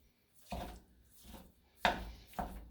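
Onions chopped with a knife on a board while a Halloween hash is prepared in a Dutch oven: four separate close chops, each a short thud with a crisp edge, spaced unevenly over a quiet background.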